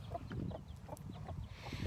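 Hens and young chicks in a small summer enclosure on a farm cluck softly and intermittently, faint and close-by, with quiet scratching movement between the calls.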